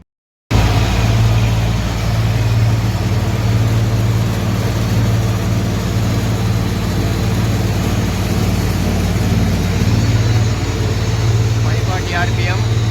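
A farm vehicle engine runs steadily under load while being driven, a continuous low drone with a strong hum that holds level throughout and stays close, with no talk over it.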